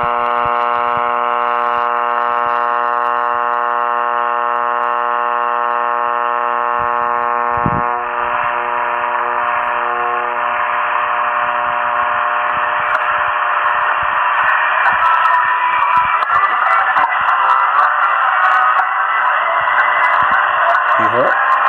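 Song encoded in reflected sunlight and recovered as low-fidelity sound: a continuous buzzy tone with layered harmonics that shifts into a noisier, hissing wash, loud and steady throughout with no pauses.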